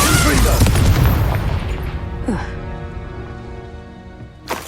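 Confringo spell in Hogwarts Legacy bursting as a loud, booming fiery explosion at the start, then rumbling away over a few seconds, with a voice talking over it.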